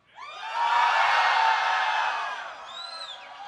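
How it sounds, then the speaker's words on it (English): A large crowd at the League of Legends World Finals cheers and whoops loudly, swelling quickly into a sustained roar that slowly fades. "how many of you are going to be cheering for T1?"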